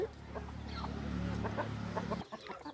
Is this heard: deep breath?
no